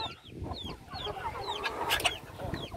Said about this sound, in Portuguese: Tem uma galinha com pintinho ali.